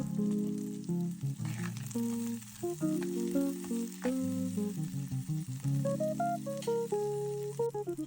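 Curry leaves, cumin seeds and cinnamon bark fry in hot oil in a pan for a Sri Lankan curry, a steady close sizzle running beneath melodic background music.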